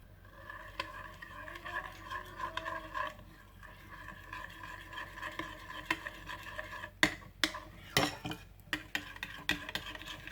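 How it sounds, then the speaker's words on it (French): A spoon scrapes and taps around a small bowl, mixing tomato paste with water, in soft continuous stirring that turns into quicker, sharper clinks toward the end, close up and without talk. "j'ai mis mon concentré de tomate dans un petit saladier avec de l'eau et je mélange"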